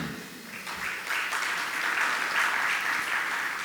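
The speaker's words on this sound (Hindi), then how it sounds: "तालियां तो बजा रहे हो" An audience at a sermon claps together, a rising wash of many hands that swells after a moment and holds steady and fairly loud, with no speech over it.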